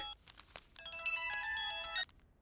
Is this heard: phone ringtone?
yes